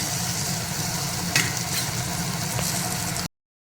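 Half an onion frying in a pan for horse gram rasam, a steady dense sizzle with a sharper scrape of stirring partway through, close and continuous before cutting to silence.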